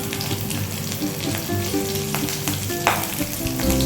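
Three slit green chillies and a pinch of asafoetida crackle in hot oil, a busy close sizzle with scattered pops and a stirring scrape now and then, steady throughout with no talking.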